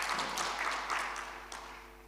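Congregation in a church applauding a visitor during Sunday worship, a dense, steady patter of many hands clapping at moderate distance, tapering slightly toward the end.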